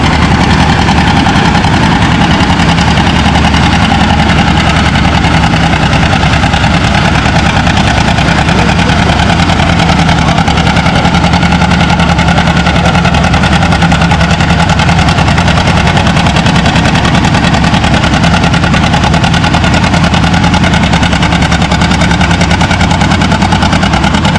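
A John Deere 820 tractor roars at a tractor pulling event, its engine running loud and continuous as it hauls a big sled, a steady heavy drone with no break.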